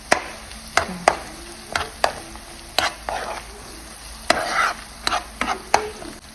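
Pieces of pork lard frying in a pan give a soft background sizzle, broken by a dozen or so sharp clicks and scrapes of a utensil stirring against the pan at an irregular pace.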